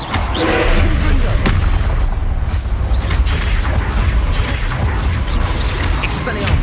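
Confringo, an explosive spell in Hogwarts Legacy, fires with loud booming blasts over thick, continuous game noise, the impacts rumbling heavily throughout.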